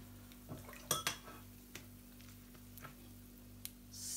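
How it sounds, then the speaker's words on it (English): A spoon stirs hot oil in a pot before butter goes in for puff puff, giving a few scattered metallic clinks and scrapes, quiet and close, with a faint sizzle. "So I will go ahead to give it a little stir again before I can add."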